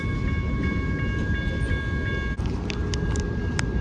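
A heavy freight train rumbles steadily close by, with a continuous low roar and faint high squeals and clanks from the wheels.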